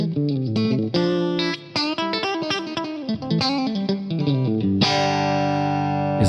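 A clean electric guitar runs through a Fractal amp model of a Mesa Mark IIc+, dry apart from studio reverb, playing rhythmic chords and single notes, then a long sustained chord ringing out at the end.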